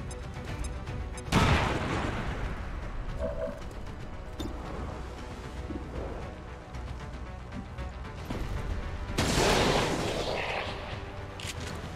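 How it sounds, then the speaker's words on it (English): Battle sounds in the tactical game BattleTech: a thrown grenade followed by two loud, sharp explosive bursts with rumbling tails, and intermittent gunfire and mechanical clanks between them. "Throwing grenade"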